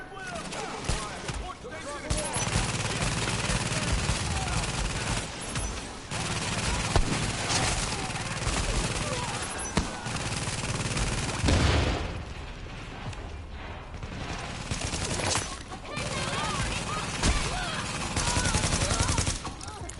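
Rapid gunfire bursts and explosions rattle through a Tom Clancy's The Division game session, with dense overlapping shots and booms that run almost without a break. A voice talks over the action at points.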